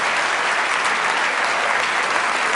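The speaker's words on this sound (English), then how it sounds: "let's give all 4 of these people a nice round of applause" A magic show audience gives a round of applause, thick uniform clapping filling the whole stretch at a loud, steady level with no pauses.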